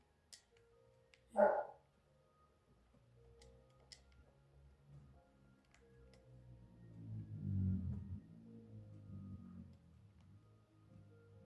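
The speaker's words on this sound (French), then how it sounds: "Excusez-moi les gars, c'est mon chien." A dog gives a single sharp bark early on, followed by quieter low rumbling and faint ticking noises, with no clear speech.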